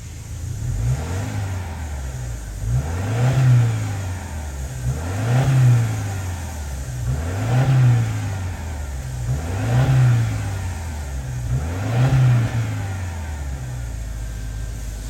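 A 2024 Subaru Legacy Sport turbocharged boxer engine with functional dual exhaust revved about six times in an even rhythm, each rev rising and falling, loud and close, with no voices.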